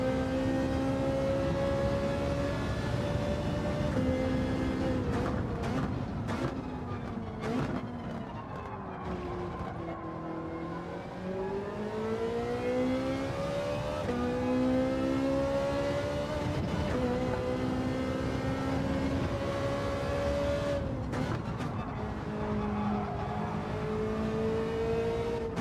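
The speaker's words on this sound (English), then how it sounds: "Rev it out" Race car engine in a racing video game revving hard and continuously, pitch rising and falling through gear changes as the car slides over kerbs, loud and close throughout.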